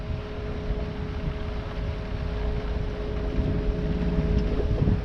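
Electric-powered test boat cruising at about 5 knots on 4 kilowatts, a steady low rumble of water and hull with a faint electric whine tone, wind rushing past the microphone, growing slightly louder toward the end.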